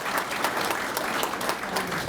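Brief burst of warm audience applause at a chamber of commerce awards presentation, close and full, with individual claps rippling through the crowd.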